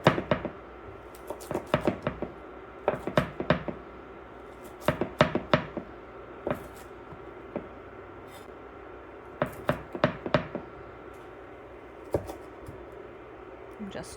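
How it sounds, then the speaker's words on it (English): A knife chops fresh de-stemmed kale on a board in sharp, close knocks that come in quick bursts of several strokes with short pauses between. "So now I'm just chopping up the kale into smaller pieces now that it's off the stems."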